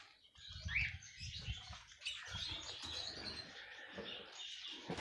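Canaries in an aviary give faint, scattered chirps and tweets over soft rustling and fluttering, with a quiet, busy background throughout.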